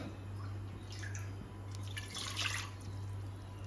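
A short, faint pour of about one and a half glasses of water splashing into a metal pressure cooker on the stove, in a couple of brief trickling bursts over a low hum.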